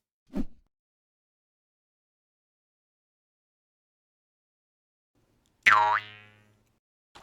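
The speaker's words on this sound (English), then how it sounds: "I couldn't find a good boing sound on the internet, but then I remembered I own a jaw harp" A single twangy, wobbling boing from a jaw harp, loud and close, after a brief tap and several seconds of silence.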